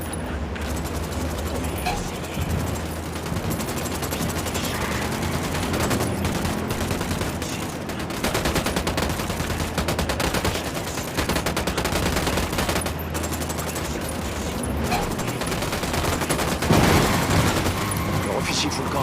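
Gunfire in the video game Ghost Recon Wildlands: sustained, loud volleys of rifle and automatic fire crackle nearly without pause, with voices talking over them.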